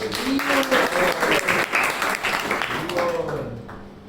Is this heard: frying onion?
no